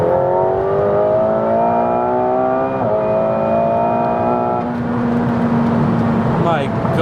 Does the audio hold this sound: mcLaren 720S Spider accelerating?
yes